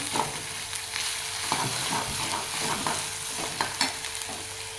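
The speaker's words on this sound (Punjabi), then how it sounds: "ਪਹਿਲਾਂ ਆਪਾਂ ਪਿਆਜ਼ ਭੁੰਨ ਲੈਂਦੇ ਹਾਂ" Onions frying in a pan for dal, a continuous close sizzle broken by repeated spoon scrapes and taps in an irregular stirring rhythm, with no one speaking.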